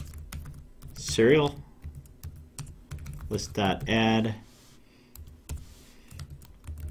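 Rapid clicking keystrokes on a computer keyboard patter steadily and close up while someone speaks briefly over them.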